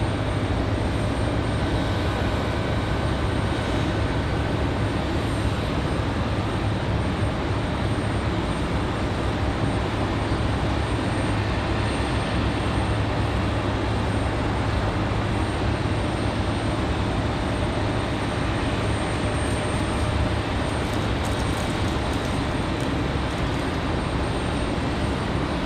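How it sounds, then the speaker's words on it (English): Southwest airliner on its takeoff roll from runway 23 left at Raleigh-Durham International on a windy day, a steady broadband jet roar that holds loud and continuous throughout with no talk over it. "Southwest 503, 5 runway heading, runway 23 left, for takeoff."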